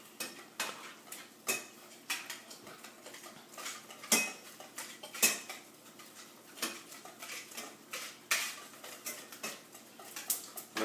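Eggs being mixed in a bowl for lasagna filling with cottage cheese, giving irregular clinks and scrapes of a utensil against the dish, close and fairly quiet, with no talking.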